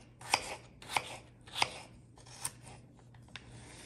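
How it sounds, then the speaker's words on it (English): A knife cuts a yellow-fleshed potato into small cubes on a board, five sharp separate chops at a slow, slightly uneven pace, each louder than the quiet background, with no talking. "So the potato is going to be cut like this."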